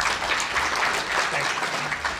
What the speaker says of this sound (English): everybody give him a round of applause for a very special man.